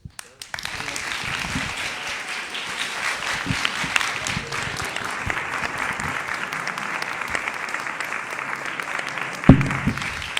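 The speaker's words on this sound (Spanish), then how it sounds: "Les pediría un aplauso para nuestros" An audience applauds guests at a film festival talk, sustained clapping from a crowd after a brief pause, fairly even throughout with a sharp bump near the close.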